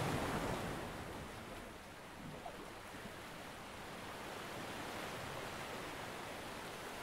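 Calm waves of the Irish Sea wash onto a beach in a soft, continuous surf hiss, steady and fairly faint, with light wind and no voices.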